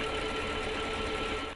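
A sewing machine running in a quick steady whir with a faint mechanical hum, close by and alone for a moment before it cuts off.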